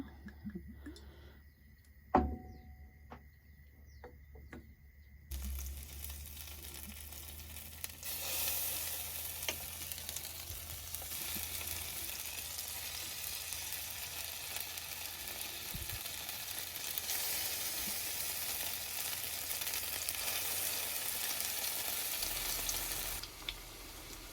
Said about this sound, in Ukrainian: Смажу на двох пательнях так швидше.